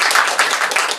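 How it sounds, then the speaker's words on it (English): Audience clapping at a talk with a lama, a short loud burst of dense, continuous claps from many hands close by, with no talk over it. "Everybody clap."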